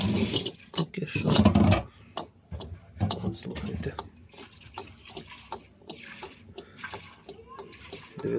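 Liquid fuel is poured into a multi-fuel platinum catalytic heater, making uneven gurgling splashes and intermittent mechanical clicks up close, with a voice briefly heard.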